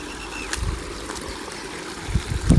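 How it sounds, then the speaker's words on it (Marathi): Rainwater from heavy rain flows down from a field above in a soft, steady trickle, with a few nearby thumps and splashes toward the end and no speech. "वरती पाणी साठले आणि हेच पाणी खाली यायला लागले बघा"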